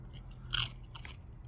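A Pringles habanero and lime chip bitten into, giving one sharp, close crunch followed by a softer second crunch, brief and quiet against a faint background hum.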